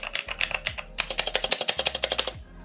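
Typing on a Razer BlackWidow clicky keyboard, two quick bursts of sharp, close key clicks in a fast, even rhythm with a short pause between them.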